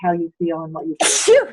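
One sharp, loud sneeze bursts out right after a short stretch of talking, then trails off into a brief vocal sound.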